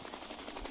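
Steady whirring rotor drone of an Apache helicopter in a video game, continuous and fairly loud, with a low rumbling throb underneath and no talking.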